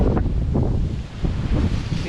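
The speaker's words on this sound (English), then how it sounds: "it's definitely windy today" Steady wind blows across an outdoor microphone, a loud continuous low rumble and buffeting with gusty swells throughout.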